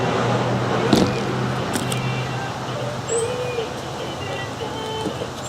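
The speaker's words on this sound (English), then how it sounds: "There's cars passing." Road traffic hums steadily in the background, with cars rolling past at a moderate distance and faint bird sounds over the top.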